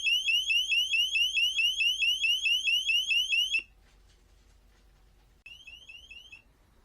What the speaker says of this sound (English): Asteroids, the solar system, complete with space sounds.